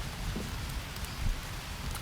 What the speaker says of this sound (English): a well-made fire shouldn't go out just because it's raining